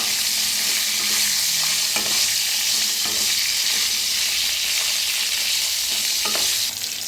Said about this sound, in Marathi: आता मिरच्या जरा भाजून घेऊया